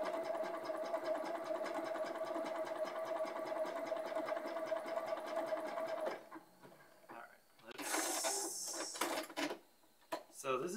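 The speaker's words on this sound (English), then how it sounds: "I gotta sew slow because the neighbor downstairs probably doesn't like when I sew really loudly." A sewing machine stitches a long sleeve in a rapid, steady mechanical whir for about six seconds, then stops and starts in shorter bursts with rustling fabric between runs.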